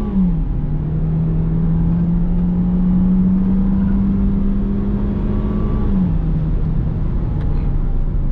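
A Peugeot 2008 1.6 automatic from 2020 accelerates up a winding mountain road, its engine a steady, loud drone that holds one pitch for several seconds before dropping as the gearbox shifts, with no talking.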